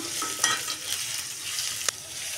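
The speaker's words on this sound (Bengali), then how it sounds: "পেঁয়াজ রসুন সুন্দর করে আমি এখন ভেজে নিব।" Chopped onion and garlic fry in white oil in a wok, a bright continuous sizzle with a few sharp scrapes of the spatula as they are stirred, close up and with no talking.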